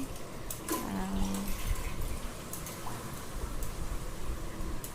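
Bitter gourd is washed by hand in water, with splashing, sloshing and dripping close by at moderate loudness, a few brief clinks and bumps, and no speech.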